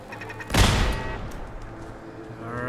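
A single loud gun turret shot in the video game Fallout 4, a slow-firing turret, booms out after a quiet moment and then rolls off in a long, fading tail.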